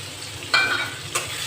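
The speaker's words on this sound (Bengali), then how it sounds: "কড়াইতে তেল দিয়ে দিয়েছি এবার আমি সবজিগুলো কষিয়ে নেব প্রথমে দিয়ে দিচ্ছি কড়াইতে পেঁয়াজ" Onions frying in oil in a wok for a vegetable biryani, a steady close sizzle with two sharper bursts of stirring or scraping, no voices.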